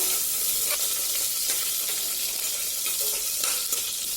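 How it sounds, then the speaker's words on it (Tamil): Mustard seeds, chana dal, dried red chillies and fenugreek sputter in hot oil, giving a steady, close, hissing sizzle with scattered small pops throughout and no speech. "இப்போ கடுகு நல்லா பொரிஞ்சிருச்சு"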